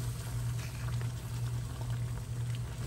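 Gravy with meatballs bubbles at a steady, close simmer in a pan on the stove, a continuous soft boiling hiss over a low hum, with no voices.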